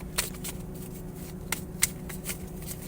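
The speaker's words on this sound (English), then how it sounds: "Right now, I'm just shuffling my cards." Tarot cards are shuffled by hand in quiet, close riffles and soft slaps that come in a few brief bursts over a low steady background hum.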